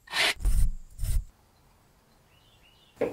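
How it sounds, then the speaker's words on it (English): Steel wool rubbed over an old backsaw blade during restoration, three close, scratchy rubbing strokes in quick succession, then a quiet pause and one more short scrape. "Steel wool polishes the high spots, while the patina is left in the low spots"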